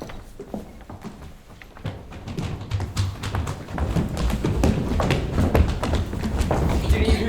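Many children run through a house toward a whistle call, a busy patter of quick footsteps and thumps that grows louder and denser as they gather close by.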